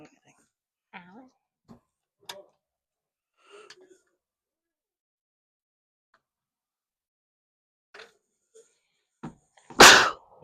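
A single loud sneeze bursts out near the end, close and sharp, after a stretch of quiet broken by faint scattered clicks, breaths and small handling noises indoors.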